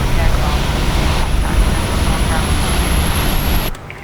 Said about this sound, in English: APU is starting, as we can hear.